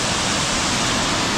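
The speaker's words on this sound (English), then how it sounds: "Waterfalls look sick." A powerful waterfall in Bali roars as a dense, steady, full-spectrum rush of falling water, close and loud throughout with no other sounds.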